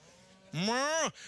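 A voice imitates a cow with one drawn-out, rising and falling moo, loud and close, lasting about half a second over a quiet background.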